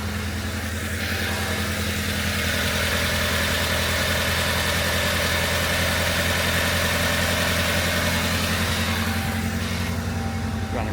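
A Proton Satria GTi engine idles steadily after a cold start, a smooth continuous hum with a low throb running evenly and close by throughout, with no voices.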